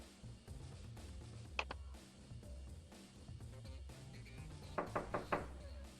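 Knocking on a blocked office door in the video game Secret Files Tunguska: a quick double knock, then a faster cluster of four raps, faint beneath loud music playing from inside the room.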